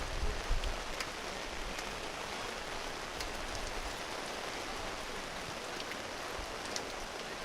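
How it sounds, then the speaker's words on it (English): Heavy rain pours down steadily over an outdoor sports field in Pierrefonds, Montreal, a dense even hiss with scattered drop taps, continuous and fairly close, no voices. "with so much rain coming down right now"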